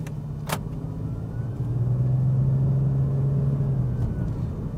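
Toyota Aristo with a 2JZ engine driving, a steady low engine rumble inside the cabin that swells slightly as it pulls, with a brief knock near the start.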